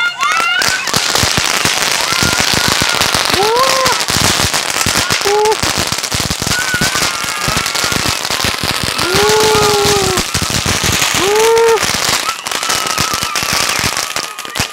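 A Sivakasi flame gun fountain firework crackles and fizzes loudly at close range, spraying sparks in a dense continuous hiss broken by rising whistles, with faint voices now and then.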